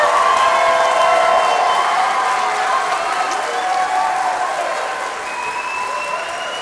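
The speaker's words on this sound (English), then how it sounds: "Would you give them another round of applause?" Sustained audience applause mixed with cheering and whistles fills a large room at a lemonade-themed event, loud and continuous before slowly easing off.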